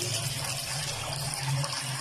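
Tap water runs steadily while mutton liver is rinsed clean after soaking in vinegar, a continuous close splashing gush with a low hum beneath it and no talking.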